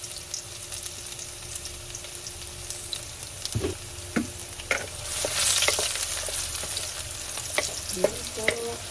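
Garlic fries in a pan with a steady sizzle, punctuated by scattered stirring scrapes and taps, with a louder hissing swell in the middle.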